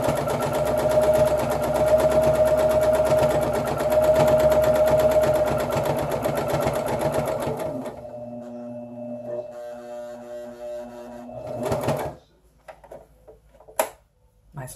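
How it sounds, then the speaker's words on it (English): A sewing machine stitches through a double layer of fleece for about eight seconds, a loud steady rapid whir, then slows and stops, with a few softer clicks and handling sounds after. "My sewing machine doesn't always like double layer of fleece to begin with, so it's always a little bit noisier."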